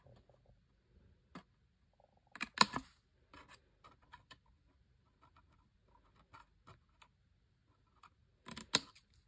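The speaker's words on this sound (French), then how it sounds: "je vais découper ici le petit carré" Scissors snip a small square out of scrapbooking paper, with short crisp cuts scattered across a quiet background and two denser bursts of clipping.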